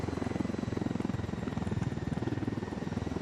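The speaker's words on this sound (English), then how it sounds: "That was another helicopter." Helicopter in the video game Ghost Recon Wildlands, its rotor thumping in a fast steady pulse over a continuous engine whine, close and constant throughout.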